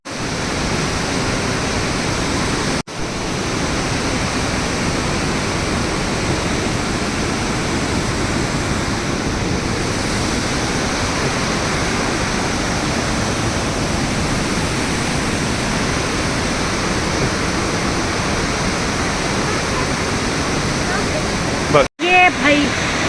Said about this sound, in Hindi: और ये पुष्पावती नदी, ये जो बद्रीनाथ से आ रही होगी।